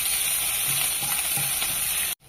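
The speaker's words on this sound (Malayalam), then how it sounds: "എല്ലാം ഇട്ട് തീ കുറച്ചിട്ട് പയ്യെ വഴക്കണം" Oil sizzles steadily in a pan as spices fry gently, a continuous soft crackle with faint stirring, then it suddenly stops.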